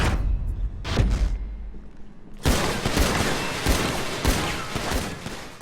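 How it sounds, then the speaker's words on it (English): A vintage pistol fires at targets during a Grand Theft Auto match against another player, with loud, close shots in quick bursts and scattered single cracks over a busy game backdrop. "shooting a vintage pistol at random targets against another player"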